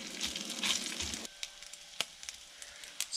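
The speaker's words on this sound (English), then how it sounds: "And the bacon's getting cooked." Bacon frying on a YQ 105 mini 500W electric stove: soft crackling sizzle with scattered pops, louder in the first second then settling into faint intermittent spits, close and quiet.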